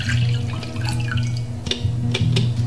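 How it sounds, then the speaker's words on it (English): Cold brew blueberry, blackberry, lemon and rose tea poured into a container for making tea syrup, a steady close trickle with small splashy bursts and gurgles, no talking over it. "We're going to be pouring in the cold brew tea,"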